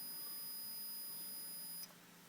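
A multimeter gives a steady, high-pitched continuity beep during a test on a VW T25 T3 Vanagon Syncro gearbox part, holding for nearly two seconds before cutting off abruptly.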